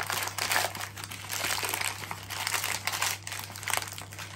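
A Peri-Peri Bag & Bake cooking bag being folded and creased by hand, with close, continuous crinkling and crackling plastic rustles over a low steady hum.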